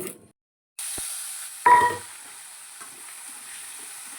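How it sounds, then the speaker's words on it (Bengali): Potatoes seasoned with salt and turmeric hit hot mustard oil in a wok after a moment of silence, bursting into a sharp sizzle that flares briefly louder, then settles into a steady, moderate frying hiss. "নুন হলুদ পরিমাণ মতন দিয়ে আলুটা ভেজে নেব"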